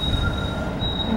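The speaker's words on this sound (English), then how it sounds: "Dekat sini ada tram." A tram in Milan passes close by, its wheels giving a high, sustained metallic squeal over the low rumble of the rolling carriage, with no voices.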